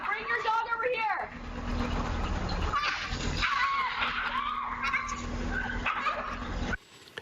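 Dogs attack a woman's dog in a chaotic outdoor scuffle, with yelps, whimpers and barks mixed under loud, frantic shouting and screaming voices, ending abruptly.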